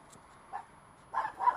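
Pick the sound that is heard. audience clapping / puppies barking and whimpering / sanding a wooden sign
puppies barking and whimpering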